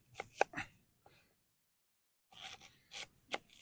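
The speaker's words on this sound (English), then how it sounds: "probably better ways of cutting onions up" A knife chopping onions outdoors on a cycle camping trip, giving a few sharp close cuts, then a pause of silence before another burst of several quick chops.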